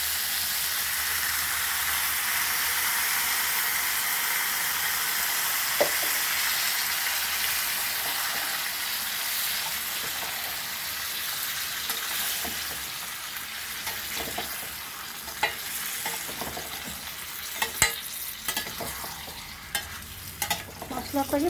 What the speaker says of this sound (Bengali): মশলাটাকে ভালো মতন কষাতে হবে বন্ধুরা